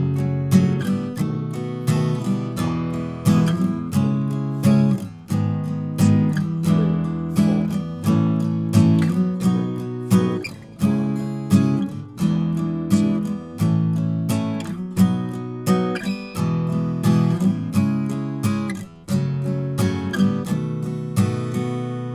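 Guitar chords of a song's first verse, strummed in a steady, even rhythm, full and close, with no voices.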